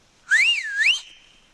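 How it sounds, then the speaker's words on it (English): A single loud whistle blast, rising and warbling up and down for under a second, then cutting off to quiet. "One, I've got a good, solid, human-made whistle."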